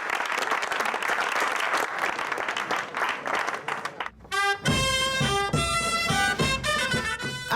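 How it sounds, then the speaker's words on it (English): Audience applause for an Aragonese folkloric dancing show in Zaragoza, a dense sustained clapping that breaks off after about four seconds as loud music with a strong rhythm starts up. "So we'd like to give them a round of applause to start it off."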